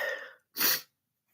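A single sharp human sneeze bursts out close to the microphone, preceded by a quick intake of breath and followed by silence.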